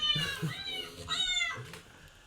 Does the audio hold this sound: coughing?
no